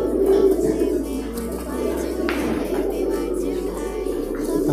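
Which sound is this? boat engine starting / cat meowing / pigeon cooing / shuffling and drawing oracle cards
pigeon cooing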